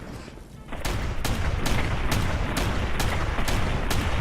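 Snub-nosed revolver shots in the video game Fallout ring out in a rapid, evenly spaced series of about eight loud booming bangs over a dense rumbling background, with a brief spoken word at the start.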